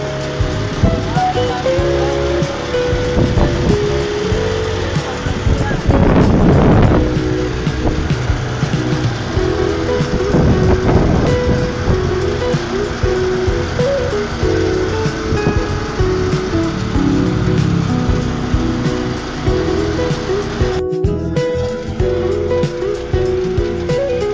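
Riding in a motor tricycle at an adventure park: a continuous engine hum and rumble of the road runs under frequent nearby voices, with a few louder bumps along the way.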